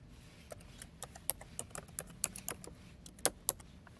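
Computer keyboard typing as a discussion title is entered, a close, quick, irregular run of crisp key clicks with brief pauses between bursts.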